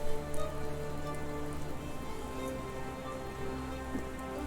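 Steady rain in the video game Sherlock Holmes: The Awakened, a constant soft patter on surfaces with a low ambient hum beneath, even and uninterrupted throughout with no voices.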